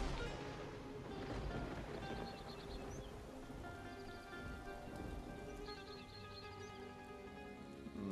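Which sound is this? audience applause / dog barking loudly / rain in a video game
rain in a video game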